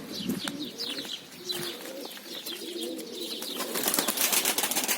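Pigeons cooing in soft repeated throaty calls, with occasional chirps and light wing flutters nearby.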